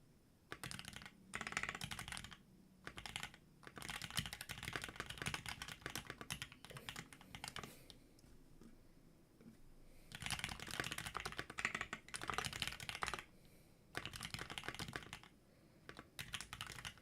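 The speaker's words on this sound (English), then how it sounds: "enough keyboard ASMR" Rapid typing on a computer keyboard, with quiet clacky keystrokes arriving in bursts separated by short pauses, close-miked and alone for about seventeen seconds.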